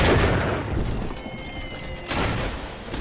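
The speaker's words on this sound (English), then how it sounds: "Where are they shooting from?" Gunfire erupts in Bioshock 2, loud crackling bursts at the start and again near the end with a duller stretch between, close and harsh with no voices over it.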